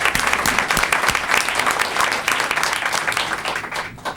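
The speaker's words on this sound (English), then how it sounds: "I appreciate the applause." Audience applause at a 2001 mayoral oath of office ceremony after a unanimous vote, a dense, loud, continuous wash of clapping from a crowd filling the whole stretch.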